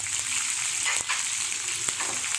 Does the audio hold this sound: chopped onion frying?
yes